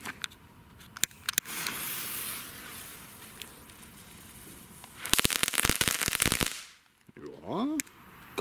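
Funke Meteoriten Kaliber A fireworks going off: scattered sharp pops first, then a loud, dense burst of crackling a few seconds long, followed by a lull and a few last snaps.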